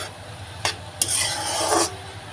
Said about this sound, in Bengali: গাজরটা আমার সুন্দর করে ভাজা হচ্ছে।